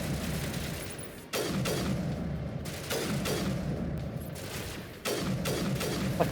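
Rifle gunfire in the sci-fi shooter Mass Effect 2: loud, dense sustained bursts of automatic fire, broken by short pauses, continuing back to back through the whole stretch.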